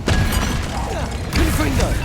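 Spell blasts from the Bombarda and Confringo spells in Hogwarts Legacy, with two loud booming impacts, one at the start and another about halfway through, over busy game sound.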